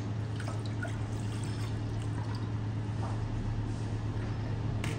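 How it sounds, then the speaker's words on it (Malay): Water poured into a pot as the base for a pandan dessert sauce, a steady, continuous splashing stream that holds an even level throughout with no pauses. "kita masukkan air"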